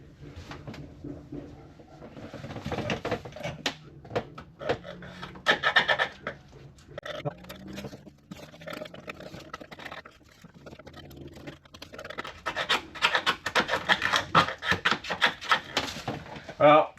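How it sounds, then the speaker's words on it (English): A knife and scraper working at a water-damaged Jayco caravan ceiling, close and steady scraping and rubbing that builds to dense, rapid strokes near the end, with voices talking over it. "that's about all I can get off just with the knife and the scraper"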